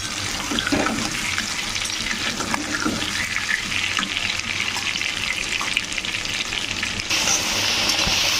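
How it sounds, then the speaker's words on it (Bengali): Loud, steady sizzling of potatoes frying in oil, a dense continuous hiss with occasional stirring scrapes. "এবারে আলুগুলোকে আমি ভালো করে লাল লাল করে ভেজে নেব।"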